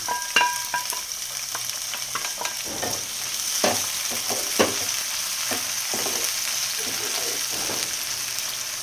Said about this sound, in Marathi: कांदा चांगला लाल भाजला आता आता टॅमॅटो टाकून घेते